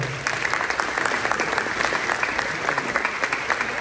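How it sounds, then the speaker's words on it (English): A crowd applauds at a high school sports awards night, with dense, continuous clapping at a steady volume for several seconds. "give these guys a round of applause because they work hard."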